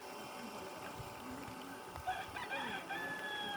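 Chickens cluck and a rooster crows on a mixed farm that also keeps pigs, ducks, geese and goats. The crowing rises in the latter half over steady low background noise, and there is no clear speech.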